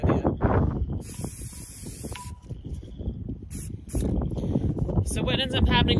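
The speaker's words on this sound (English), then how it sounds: "spray paint from the top towards the middle" Bursts of aerosol spray hiss in short sprays between stretches of talk, with gusty wind noise in the background.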